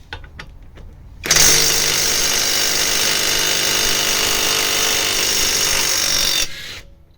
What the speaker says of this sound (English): now first of all we're going to try the cheap Makita impact wrench.